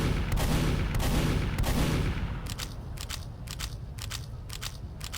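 In the game Team Fortress 2, the Scout's scattergun fires a few booming blasts close by, then a quick run of sharp mechanical clicks as shells are reloaded one after another, with no talking.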